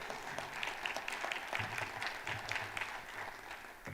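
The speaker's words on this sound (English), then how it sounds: "round of applause for that." An audience at a school board meeting claps in a steady, sustained round of applause honoring the school's state wrestling champion, dense and even throughout with faint voices beneath.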